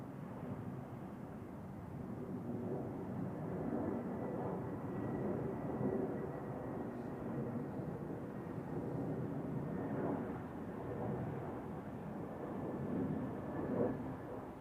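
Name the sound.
airplane landing at Zurich Airport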